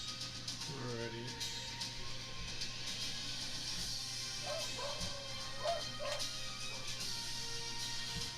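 A summoned dog in a tabletop game session barks and yips a few times at moderate distance, layered under steady table chatter and a constant background hum.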